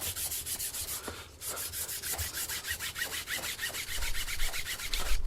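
Rhythmic back-and-forth rasping of 600 grit sandpaper rubbed over a leather strop, close and steady strokes repeating about twice a second and growing slightly louder toward the end.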